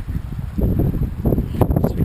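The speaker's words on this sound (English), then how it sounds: "Got a bit of wind here" Gusty wind buffeting near the ground on a mountain hike up San Bernardino Peak, a rough, close, steady rumble that swells in a couple of stronger gusts, with no one talking.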